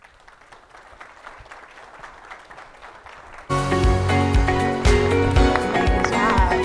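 Conference session audience bursting into applause, loud and dense clapping that erupts suddenly after a stretch of quiet room murmur and continues steadily, with music or a voice faintly mixed underneath.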